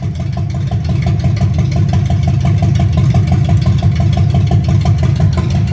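The engine of a 1965 Ford Mustang fastback, started for the first time in 44 years, runs steadily with a low, even idle throughout, close and loud.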